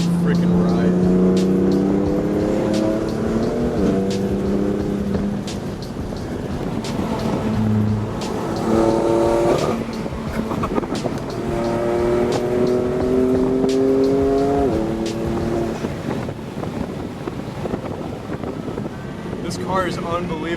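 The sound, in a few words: BMW F80 M3 Stage 2 tuned car engine accelerating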